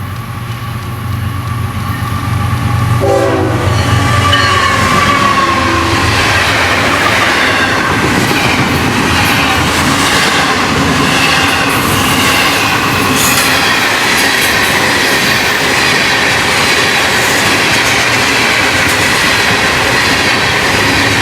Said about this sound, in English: Days later, we find an early running train 109 in downtown Pompano at first light.